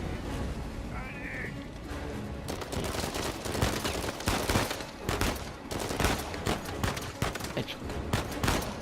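Rapid bursts of gunfire from the video game Uncharted 4, dense crackling volleys repeating steadily through most of the stretch at moderate loudness.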